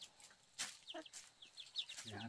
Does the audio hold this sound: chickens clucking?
yes